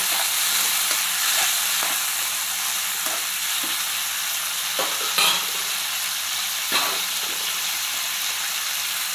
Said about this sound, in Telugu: ఇప్పుడు అదే ప్యాన్లో ఆయిల్ పోసుకొని మనం కోసి పెట్టుకున్న టమాటాలన్నీ వేసేయాలి. బాగా మెత్తంగా వేపేసుకోవాలండి